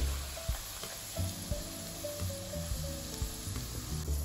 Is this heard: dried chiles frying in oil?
yes